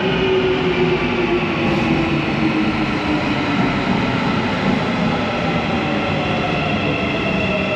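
A Marmaray commuter train in Istanbul rumbles steadily and loudly throughout, with a continuous roar of wheels and carriage noise and no voices.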